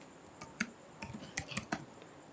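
Keys clatter on a computer keyboard while someone types into an Excel spreadsheet: a quiet, uneven run of about eight close clicks, some in quick pairs, over faint background hiss.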